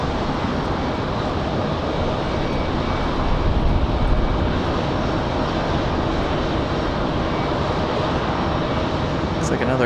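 A Delta airliner arriving from Minneapolis at Raleigh-Durham International airport gives a loud, sustained broadband engine roar throughout, with steady wind-like noise and no clear voices.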